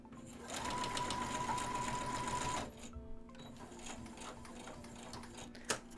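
A sewing machine runs steadily for about two and a half seconds while stitching a stitch-in-the-ditch waistband sample, then stops, leaving quiet handling noise and one sharp click near the end.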